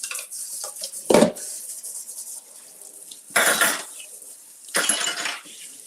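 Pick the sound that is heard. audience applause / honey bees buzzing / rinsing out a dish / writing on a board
rinsing out a dish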